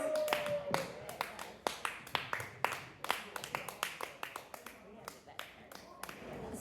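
A comedy-show audience claps for a comic, a sparse and quiet scattering of distinct individual claps that stays fairly even for several seconds.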